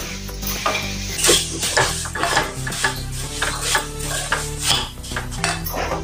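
Puffed rice chivda, a spicy murmura namkeen, tossed with a small spoonful of chaat masala: steady close scraping and rustling of a spoon through the dry crisp mix, with repeated light clinks against the bowl and no talking.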